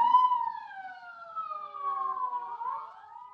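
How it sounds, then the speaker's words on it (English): Police sirens used as a radio drama sound effect for state police cars blocking roads, a wailing tone that rises and falls in long sweeps, clear and alone. "Sirens, state police, militia, all roads blocked off."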